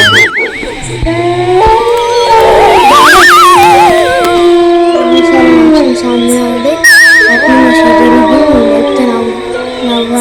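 Several dogs howl and whine at night in long, wavering cries, close and loud, overlapping each other throughout.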